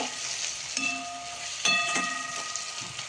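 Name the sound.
vegetables sizzling in oil in pan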